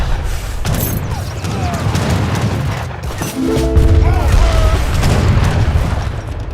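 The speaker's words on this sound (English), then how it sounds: "Here they have heavy cannons" Deep booms and rumbling blasts from heavy cannons firing in Age of Empires 3, overlapping into a continuous barrage with a few faint mechanical clanks.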